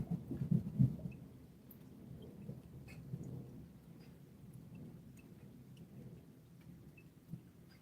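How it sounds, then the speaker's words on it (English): Thunder during a thunderstorm under a tornado watch: a low, distant rumble that swells early and then fades into a steady wash of rain, faint throughout with no talking. "You can hear the thunder"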